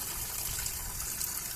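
Water from a solar powered pump runs by gravity out of a pipe, making a steady, soft gushing and splashing that continues at an even level throughout.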